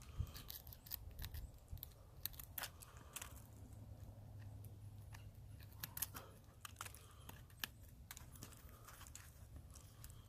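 A Ganzo G741 folding knife notches a worn, splintering wooden tent stake outdoors, giving a steady run of sharp close-up clicks, scrapes and snapping wood chips over several seconds.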